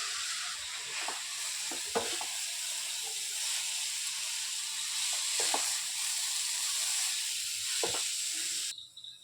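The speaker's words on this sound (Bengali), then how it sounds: "একটু সময় লাগবে ভাজতে। গাজরের কাঁচা গন্ধটা চলে গেলে তারপরে" Grated carrots fry for gajar halwa, a steady sizzle with soft stirring scrapes at intervals, close and fairly faint, no talk.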